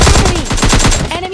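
Rapid automatic gunfire in the mobile battle royale game PUBG Mobile Lite, a loud burst of close, rhythmic shots rattling in quick succession.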